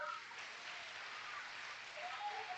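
A church congregation claps in praise during a Portuguese-language sermon on healing, a steady wash of applause lasting a couple of seconds, moderately loud with a faint voice near the start.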